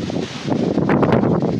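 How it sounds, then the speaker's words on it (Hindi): Strong wind blowing against the microphone outdoors, a loud steady broadband roar with gusty surges that swell louder through the second half, no voices. "काफ़ी तेज़ हवा चल रहा है"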